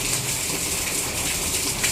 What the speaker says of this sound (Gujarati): ફૂલ સીધો ધોધમાં વરસાદ ચાલુ થઈ ગયો